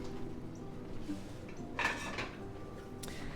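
Pumpkin snickerdoodle dough with clumps of butter is stirred in a mixing bowl, with soft, faint scraping and one brief clattering clink of utensil against bowl midway, heard close and without talk.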